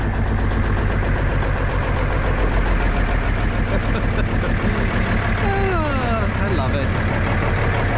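A Kenworth K100E truck with a 400 Cummins diesel engine held at fast idle, a steady low rumble running throughout under a voice speaking close by.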